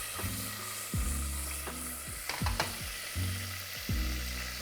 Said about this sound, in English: And then we're just gonna let it fry.